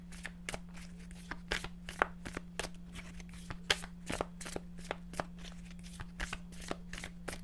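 Tarot cards are shuffled in quick, crisp riffling bursts, close and fairly quiet, over a steady low electrical hum.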